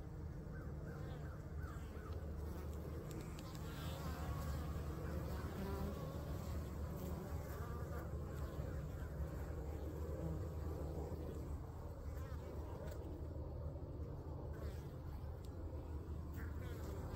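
Bees and wasps buzz around a robbed beehive, a faint, continuous swarm drone with crows cawing in the background.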